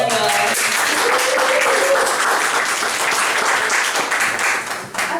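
Audience applause for a performer at an open mic poetry night, a dense steady wash of many hands clapping throughout, fading slightly at the end.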